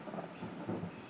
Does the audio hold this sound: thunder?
yes